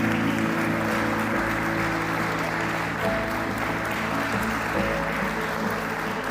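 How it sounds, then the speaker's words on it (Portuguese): Church congregation applauding during a worship service, a dense sustained wash of clapping over a lingering sustained musical tone, loud and continuous throughout with no one speaking. "aplaude e glorifique."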